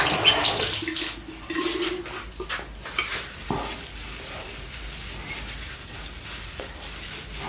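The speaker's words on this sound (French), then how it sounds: "Je vais donc rincer avec ma Conjac" Water splashes and trickles as a face is rinsed with a wet konjac sponge, a close, soft wash that is busier at first and then settles into a quieter, steady patter.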